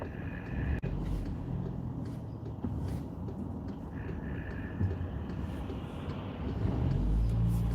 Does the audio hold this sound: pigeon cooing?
no